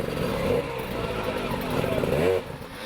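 Enduro motorcycle at full throttle on the rough rocky terrain of the Erzberg Rodeo hare scramble, a loud sustained engine roar with a rising rev sweep near the end, close and continuous.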